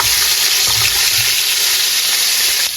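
Rinsed shrimp sizzle in olive oil in a pan, a dense close crackling hiss throughout, with a few soft scraping knocks as a spatula stirs them.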